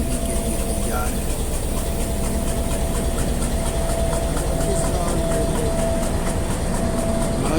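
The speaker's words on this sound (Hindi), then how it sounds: "गर्जदार मिसल आपने सुनी" A powerful Pakistan Railway locomotive hauling the Hazara Express 12 Down rumbles steadily at close range, with a faint thin whistle-like tone held over the engine noise.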